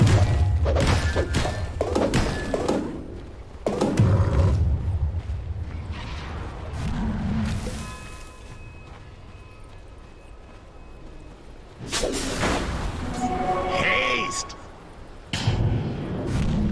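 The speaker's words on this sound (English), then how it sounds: "Dire's bottom tower is under attack." Dota 2 match with a tower under attack: repeated heavy thuds and thunks from battle effects, with brief mechanical creaks, come in bursts over layered game ambience and swell again near the end.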